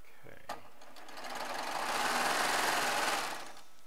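A Baby Lock serger runs a short burst, stitching fabric charm squares: a fast mechanical whir that ramps up, holds for about two seconds, then winds down, close and clear after a soft click.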